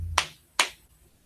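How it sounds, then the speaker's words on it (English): A hand pats on a leg to keep tempo, giving two soft, close, dull slaps about half a second apart in a quiet room with no talk. "notice I was patting on my leg to get that"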